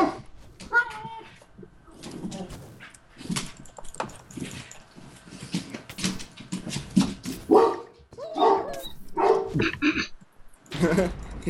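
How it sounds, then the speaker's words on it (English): A dog barks in the video game Super Smash Mobs, short yips and cat-like cries popping up between bursts of game noise while players talk excitedly over them. "Dog's behind you."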